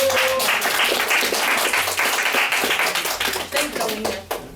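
A meeting audience applauding for Alina, a burst of many hands clapping loudly at first and then thinning into scattered claps as it fades toward the end.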